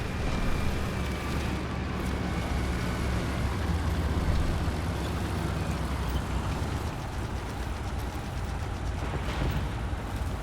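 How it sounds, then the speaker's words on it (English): Steady low rumble of a tank engine in Hell Let Loose Vietnam, a dense droning roar holding constant and fairly close for the whole stretch, with no talking over it. "Oh, that's a tank."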